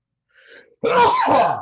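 A single sneeze, with a short soft intake of breath just before the sharp, loud burst.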